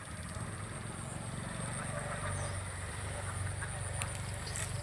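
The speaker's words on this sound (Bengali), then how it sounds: "তা আমার হাঁসগুলো আমার পুকুরে চলে আসছে" Village ducks at a pond during the rainy season quack faintly and intermittently in the distance over a steady outdoor background hum.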